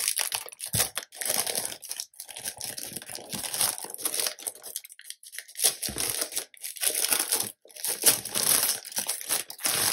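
Crinkly plastic packaging of sticker books being opened, with continuous close crackling and crumpling in uneven bursts, some brief pauses, and loud throughout.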